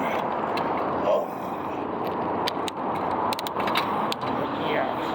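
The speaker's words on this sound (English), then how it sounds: "There's a little rough traffic going on." Road traffic on a bike ride, passing vehicles making a steady broad rumble and wash throughout, with brief clicks and rattles on top, fairly loud and continuous.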